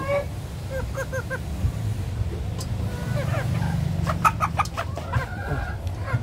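Cornish Bantam chickens cluck in a farmyard with repeated short calls and a few louder squawks near the end, over a steady low background hum, with no one talking.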